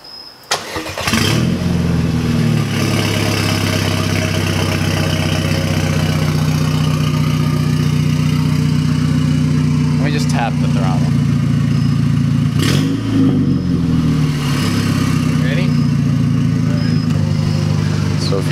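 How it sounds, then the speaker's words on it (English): Volkswagen Golf GTI with an open downpipe, its engine loud and close, idling with a deep steady drone and rising in brief rev blips, running continuously after starting up. "So if you want to know what an open downpiped GTI sounds like, this is it."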